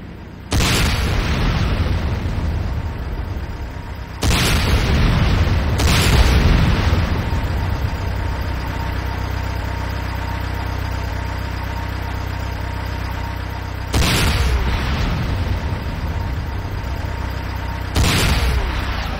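Large explosions from a destroyed enemy base structure in Command & Conquer Renegade boom loudly several times, each followed by a rumbling tail over steady game background noise.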